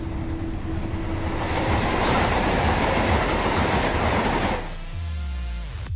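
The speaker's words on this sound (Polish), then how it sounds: "Pociąg towarowy przejeżdża przez stację i zaraz będzie jechał przede mną." A freight train rolls through a station in the MaSzyna train simulator, a loud, sustained rumble and clatter of wagons that tapers off toward the end, with no voices.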